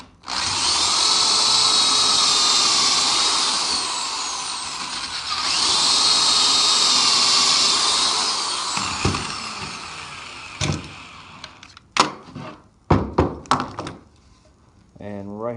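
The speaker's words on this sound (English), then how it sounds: "Now I'm going to add pocket holes to all my leg supports." A power drill whines loudly for several seconds in two long bursts, drilling pocket holes in wooden table leg supports, followed by scattered knocks and clunks of wood being handled.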